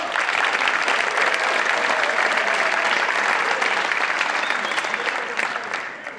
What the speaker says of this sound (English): I am so thrilled for those applause